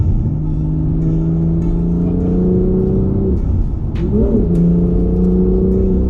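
Close, loud BMW M2 engine drone in Sport Plus mode that holds steady, dips briefly, then revs back up with a rising whine.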